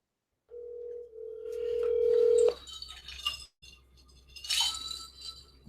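A telephone dial tone hums steadily for a couple of seconds, then stops as the number is dialed, followed by clicks and a bright metallic clink, close and clear.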